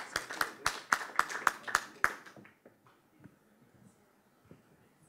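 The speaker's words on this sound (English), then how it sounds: "Big round of applause for our panelists." Audience applause for panelists at a gold mining investment conference, a burst of sharp, close claps for about two seconds that quickly fades into scattered murmur and faint room noise.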